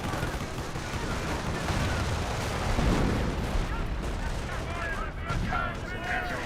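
Steady gunfire and artillery rumble from a Company of Heroes battle, with a light track vehicle firing as a squad charges forward, a dense continuous barrage under a voice talking over it.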